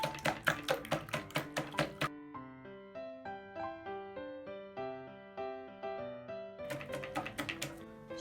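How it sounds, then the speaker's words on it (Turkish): A wire whisk beats eggs with oil in a bowl for chocolate hazelnut muffins, making rapid, clear clicking taps in two bursts, with a stretch of soft instrumental music between them. "Sıvı yağ ile yumurtayı birlikte çırparak az az ilave ediyoruz."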